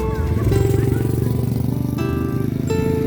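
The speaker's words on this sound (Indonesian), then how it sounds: "Nah ini adik kami satu ini coba motor trail." Small children's trail motorcycle ridden at a riverside campsite play area, its engine droning steadily and close with slight pitch shifts as it runs, no talk over it.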